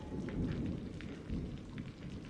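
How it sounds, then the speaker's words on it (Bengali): Heavy rain pouring down late at night, a dense, moderately quiet wash with low rumbling swells and scattered drips, continuous and without speech. "বৃষ্টি যেন থামতেই চায় না যত রাত হয় বৃষ্টি আরও জোরে হয়"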